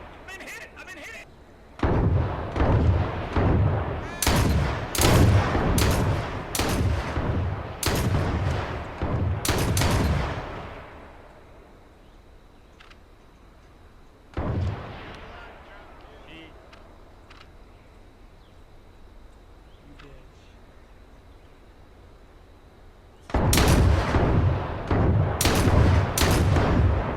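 Gunfire in a multiplayer shooter video game, shotgun included: loud clustered bursts of shots in two main volleys separated by a quieter stretch with a lone shot, with players chatting throughout.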